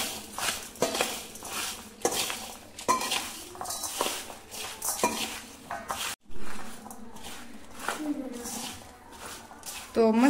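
A spoon clinks and scrapes against a metal bowl while a dry spice mix for Marwari kair (ker) pickle is stirred, fennel among the spices, with someone talking over the irregular close taps and rattles.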